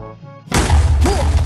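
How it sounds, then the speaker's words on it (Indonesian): Minecraft TNT blowing up, a sudden loud blast that cuts in after a quiet tone and rumbles on heavily with booming low end and debris-like crackle. "Dia akan meledak-meledak terus sampai berapa tuh?"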